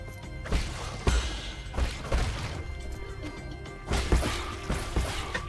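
Explosions in the video game Nine Sols, a series of heavy thuds and crashing blasts at irregular intervals, close and punchy, each with a short rumbling tail.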